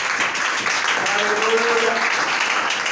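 A church congregation claps and cheers loudly for about three seconds in a steady, dense wash of applause, with voices mixed into the noise.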